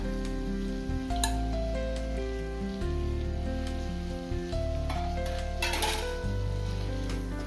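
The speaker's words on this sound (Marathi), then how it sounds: "ती बी बरी तळसून घेता तेलात." Marinated prawns fry in hot oil alongside potatoes, a loud continuous sizzle and crackle close up, with a low steady hum underneath and no speech.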